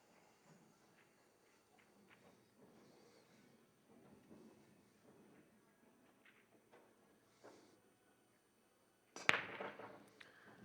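A pool break shot on a bar table at an 8-ball championship: one sharp, loud crack of billiard balls colliding and scattering near the end, after quiet murmur of a crowd.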